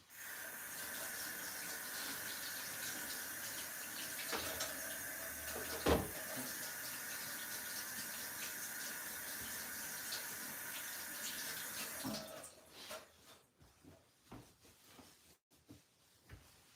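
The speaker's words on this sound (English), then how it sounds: "Go wash my hands, be right back." Water runs steadily from a kitchen tap into a sink during hand washing for about twelve seconds, close and even, then cuts off, followed by faint clatter and handling noises.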